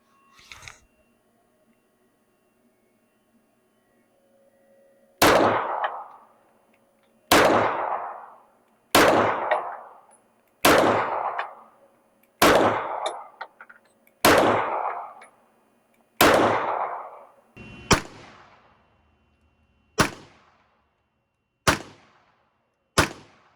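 A Smith & Wesson M&P 9 Competitor PC carbine fires eleven loud, sharp shots after a brief quiet start, spaced about two seconds apart and each with a short ringing tail.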